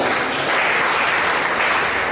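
A gathering of the Ghanaian community in Tripoli, Libya claps for a newly introduced delegation, sustained loud applause from many hands, continuous and uniform for the whole stretch.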